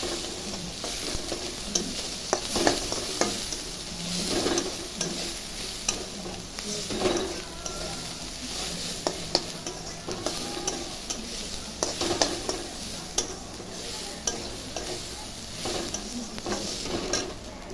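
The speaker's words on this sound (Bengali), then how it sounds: "সব দিয়ে একটু ভাজা ভাজা করবো" Spices, ginger paste, turmeric, chilli and cumin powder fried with dal for khichuri, stirred steadily in a hot pan: a continuous sizzle with repeated scraping strokes of the spoon, close and fairly loud, no talking.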